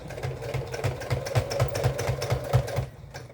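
Close, quiet sewing machine stitching a jeans zipper briefly, a regular thumping stitch rhythm over a motor whir before stopping.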